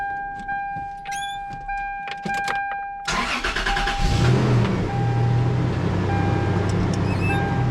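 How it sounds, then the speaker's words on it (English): A 1998 Toyota Tacoma SR5 truck starts up: a few clicks and chimes, then the starter cranks and the engine catches into a loud, steady idle, close by. "So I'm going to start up the vehicle."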